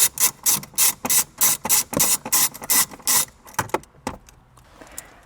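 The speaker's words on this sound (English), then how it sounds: "go ahead and grab your 10mm again. It's gonna be 2 bolts to remove." Ratchet wrench fitted with a 10mm socket clicking rapidly in repeated bursts while loosening the screen bolts on a 2022 Lexus RX dashboard, close and crisp, with a few slower clicks trailing off at the end.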